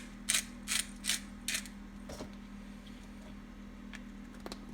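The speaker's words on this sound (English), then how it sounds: "Some black pepper, just grind some up." Black pepper cranked through a pepper grinder in a kitchen, four short crunchy grinding bursts in quick succession, close and fairly quiet over a steady background hum, then a few faint clicks.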